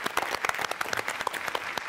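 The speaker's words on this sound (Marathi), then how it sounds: "जोरदार टाळ्या यांच्यासाठी" A studio audience at a Marathi comedy show claps loudly and steadily to welcome a guest, a brisk burst of applause with no talking over it.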